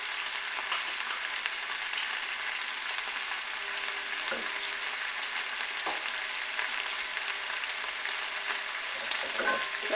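Butter sizzles and crackles in a hot pan, a steady dense frying hiss that runs close and loud without a break, with a few faint clinks of a utensil.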